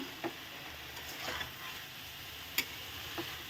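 Sugar stirred into kulekhara greens cooking in a pan, a quiet, faint scene with a few soft spatula taps and scrapes spaced out over a low background hiss.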